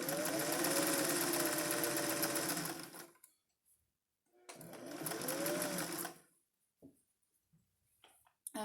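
Sewing machine stay stitching the edges of a vest, heard up close as two loud, even bursts of fast whirring stitching, each about three seconds long, followed by soft handling clicks and near-silence.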